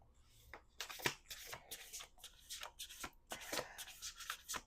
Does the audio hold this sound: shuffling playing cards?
yes